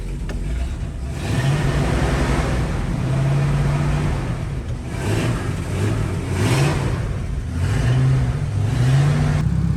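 A Nissan 240SX S13 engine warming up, heard close and loud: a steady idle rumble with repeated rising and falling revs over nearly ten seconds, no talk.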